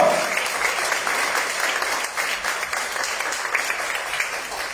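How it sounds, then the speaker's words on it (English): A business event audience breaks into applause, a dense, sustained wash of clapping that stays fairly loud throughout and eases off slightly toward the end, with no voices over it. "Give yourself a big round of applause."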